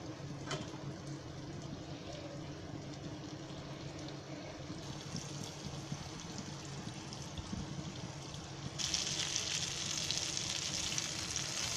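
Tuna fish fries in a covered pan with a steady, dense sizzle and crackle that grows brighter and louder near the end, with no talking.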